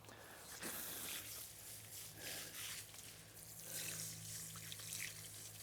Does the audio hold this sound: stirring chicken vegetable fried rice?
no